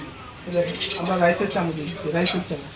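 Spoons from a gold-coloured dinner set clink against one another and against dishes in a quick, irregular run of bright metallic taps, with someone talking over them the whole time.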